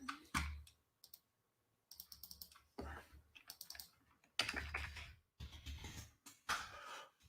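Bursts of clicky computer keyboard typing come in quick, close, fairly quiet clusters separated by short silences, with no voices.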